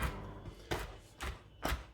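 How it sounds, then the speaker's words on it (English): A really sharp knife chops dried chaga mushroom, giving four faint, evenly spaced dull thuds against a board with quiet room tone between them. "here I'm just kind of using a really sharp knife to chop it up"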